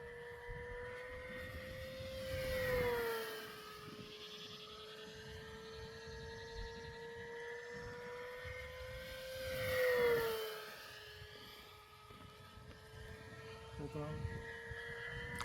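An RC airplane's electric motor whines steadily during a hand launch test, a sustained tonal drone that swells and sweeps in pitch twice as the plane passes by, with people talking faintly underneath.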